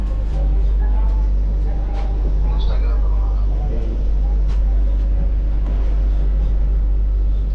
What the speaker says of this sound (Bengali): এবারে আমাদের ট্রেন রওনা দেবে